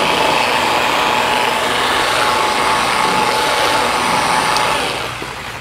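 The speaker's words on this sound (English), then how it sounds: "I'm going to machine apply the wax" Machine polisher spreading Pinnacle XMT Series 180 High Gloss Carnauba Paste Wax over car paint: a loud, close, continuous whirring drone with a faint steady tone, fading slightly at the end.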